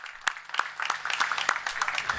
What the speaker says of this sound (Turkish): Bir alkış göndermek istiyorum